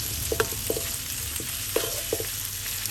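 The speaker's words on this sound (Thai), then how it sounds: "ผัดหมูให้สุกค่ะ" Marinated pork stir-frying in a pan for Thai spicy fried instant noodles, a soft steady sizzle broken by a handful of light spatula taps and scrapes, close and fairly quiet.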